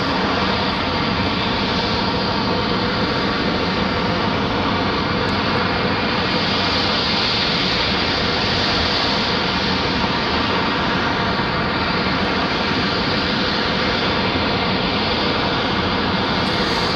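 Engines of a Globe X jet preparing to leave Raleigh-Durham for Oakland hold a steady, loud roar with faint whining tones, continuing evenly for a long stretch with no talk.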